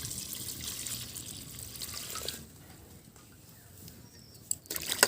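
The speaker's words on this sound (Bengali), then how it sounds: "এখন গরম সয়াবিনের মধ্যে আমরা ঠান্ডা জল দিয়ে দেব।" Cold water poured over hot boiled soybean chunks in a kitchen, a continuous rushing splash that thins into quieter trickling and drips, ending with a few light clinks.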